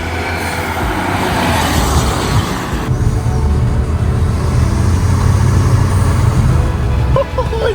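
A wrecked Vauxhall Corsa VXR drives along with a loud, close, rough engine drone and road rumble, its tone shifting partway through as the car pulls on, heard from inside the cabin.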